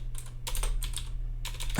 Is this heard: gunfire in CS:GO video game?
no